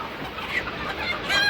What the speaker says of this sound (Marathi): आणि ही गावठी कोंबडी